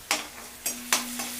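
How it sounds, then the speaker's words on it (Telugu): Ginger and garlic frying in oil in a pan for aloo paratha filling, with a few bursts of sizzle as the pan is stirred, over a steady faint hum. "ఈ విధంగా అల్లం వెల్లుల్లి కూడా వేగాయి కదా"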